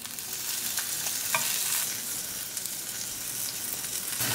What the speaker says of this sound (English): I'm going to cook it on the side edges